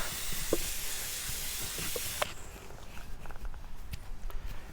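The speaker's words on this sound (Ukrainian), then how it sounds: "Зараз я це все оприскаю, оприскаю і просто накрию кришкою." A hand sprayer mists water over hydrangea cuttings set in peat, a close, continuous hiss lasting about two seconds before it stops, followed by quieter handling noises and light taps.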